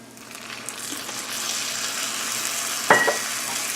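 Candied pecans with a splash of vanilla hiss and sizzle steadily in a pan on lowered heat, a constant close frying wash with a sharp scrape of stirring near the end; no talking.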